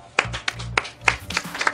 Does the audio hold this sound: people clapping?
yes